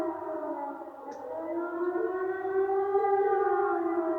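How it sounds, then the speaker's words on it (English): A civil-defense-style siren sounds from a fort in the video game Trails of Cold Steel. It is a steady, rising wail that swells slightly and carries on alone without any talk. "It sounds like a siren."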